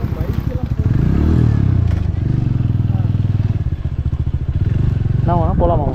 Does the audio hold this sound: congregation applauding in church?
no